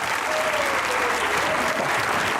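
A television studio audience claps warmly for an arriving guest, a full, even burst of applause close and loud for a couple of seconds.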